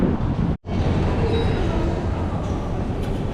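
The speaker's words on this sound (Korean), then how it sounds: "제가 지금 바로 타야 될 거는 버스가 아니라 지하철이네요" A Baku metro subway train gives a steady, loud rumble of wheels and motion that is broken only by a very brief dropout, and no clear talk stands out over it.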